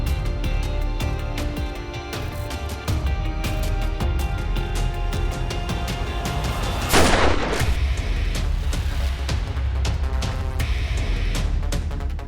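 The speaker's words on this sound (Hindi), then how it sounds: "आज मुझे गोली चलाने पर मजबूर मत कर पाठक। लेकिन मैंने चलाई है।" Dense, loud gunfire crackles with repeated sharp reports over a heavy rumbling background, including one louder blast near the middle.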